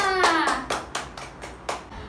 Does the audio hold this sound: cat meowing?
no